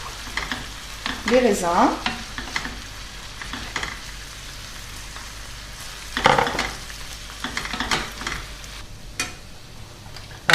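Pasta and pasta water are stirred with tomato concentrate in a pan for a Sicilian sardine pasta dish, giving soft scraping and wet sloshing strokes in bursts over a low sizzle, with a few brief spoken words.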